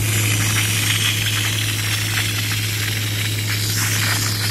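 A Steam Boss carpet-cleaning machine sprays cleaner onto soiled, mouldy outdoor patio cushions in a steady, loud hiss. A constant low motor hum runs beneath the spray, with no talking.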